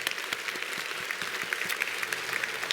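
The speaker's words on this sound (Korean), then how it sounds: "힘찬 격려의 박수를 한번 보내주시기 바랍니다" Church congregation applauding in encouragement of its middle-aged members: a dense, even wash of many hands clapping, moderately loud and sustained throughout, with a faint voice underneath.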